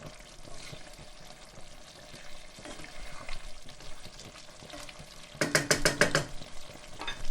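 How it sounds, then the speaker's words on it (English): Chicken karahi bubbles and sizzles in a pan with a steady low crackle, and a burst of louder rhythmic scraping or stirring near the end, no speech. "we'll just let it simmer and let it thicken"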